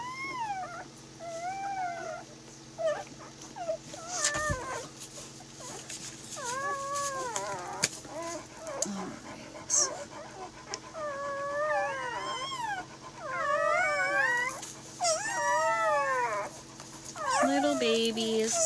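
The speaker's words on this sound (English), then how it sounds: "Yeah, it's my favorite when they start howling." Newborn Anatolian Shepherd puppies howl, whimper and yip in repeated rising, wavering cries, fairly close, with people talking quietly over the fussing litter.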